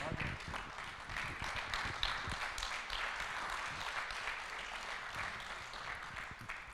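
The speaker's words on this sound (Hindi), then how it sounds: "तालियां इस दोस्ती के लिए, तालियां इस जज्बे के लिए।" An audience claps steadily at an event honouring doctors and Corona warriors, a continuous patter of many hands with voices mixed in over it.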